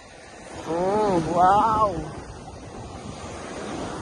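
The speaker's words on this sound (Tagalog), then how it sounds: "Oh, lakas ng alon." Strong ocean waves surge and wash onto an Ilocos beach as a steady, close roar with wind buffeting the microphone, while a man exclaims briefly in excitement over the surf.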